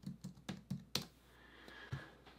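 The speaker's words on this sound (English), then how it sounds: "So let's go to elements and type in hearts." Typing on a computer keyboard to search a design website for heart graphics: a handful of quiet, close key taps in a short uneven burst, with one sharper clack and a pause before a final tap.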